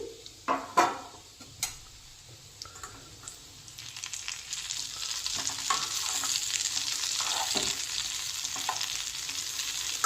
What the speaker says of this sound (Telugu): ఇలాగా నీట్గా కాకరకాయని ఫ్రై చేసుకుందామండి